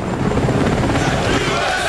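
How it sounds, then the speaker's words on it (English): The U.S. president's helicopter lifts into position over New York City, a loud continuous rotor thrum and engine roar with dense broadband noise, close and steady throughout. "The president's helicopter is beginning to move uh, into position here in New York City."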